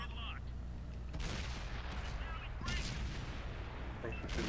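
Three heavy booming tank cannon shots from Polish tanks in World of Tanks on console, spaced a second or so apart over a constant loud engine rumble.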